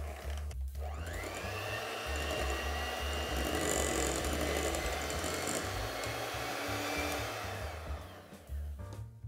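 Electric mixer beating red velvet cake batter, a steady high-pitched motor whine running continuously close by for several seconds before cutting off near the end, with no talking.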